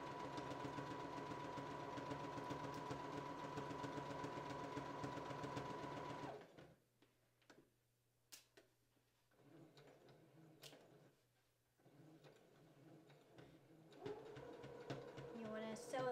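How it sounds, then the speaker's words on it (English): A sewing machine stitching dress fabric, a fast, even mechanical whir up close for several seconds, then stopping, with brief handling clicks and short bursts before stitching resumes near the end. "and then I'll continue sewing"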